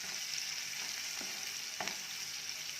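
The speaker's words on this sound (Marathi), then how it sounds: "कांद्याचा रंग बदल्यापर्यंत छान भाजून घेऊया" Finely chopped onion with a pinch of salt frying in a pan, a quiet continuous sizzle with a few faint stirring scrapes and taps, no talking.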